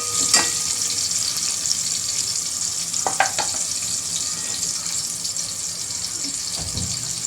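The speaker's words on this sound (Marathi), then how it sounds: "याच्यामध्ये आपण आता टॅमॅटो टाकून घेतलेला आहे. मला चांगले 1 मिनिट फ्राय करून याच्यामध्ये आता मसाले टाकून घेऊया." Tomato with curry leaves fries in a pan in a steady bright sizzle, close and continuous, broken by a few sharp clinks of a spoon against the pan, with no talking.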